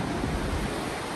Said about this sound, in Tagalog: Ang alon ay napakalakas.